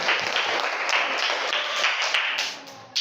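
A classroom group claps together in a dense, steady round of applause that carries on for a few seconds, then fades and briefly picks up again at the end.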